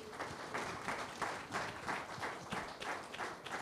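An audience claps during an interview event, a fairly faint, steady wash of many hands with pulsing swells, heard alone without talk for several seconds.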